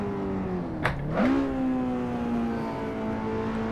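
A manual car's engine in a driving lesson as the clutch is released too early: the steady engine note dips sharply, then surges back up and settles into a sustained, close drone.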